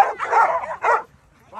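A Labrador dog lets out two quick, high yipping barks close by, followed by a faint start of another sound.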